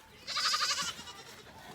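Goats on a homestead bleat in a short, loud, wavering call from close by, followed by quieter farmyard background noise.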